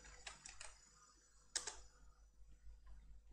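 A command being typed on a computer keyboard in an Ubuntu setup, with a few quiet key clicks early, then a sharper louder keystroke or two near the middle, close and faint with no voices.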